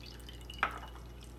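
A single soft drip of homemade cheese whey falls from cheesecloth into a bowl, close and faint over a low steady background hum.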